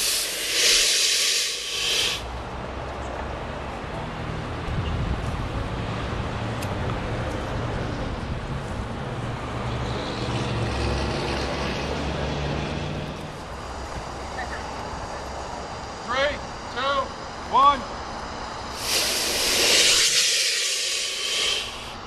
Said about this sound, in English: We're going to attach a flare here, and y'all are going to see what happens when your powder is exposed to flame for any length of time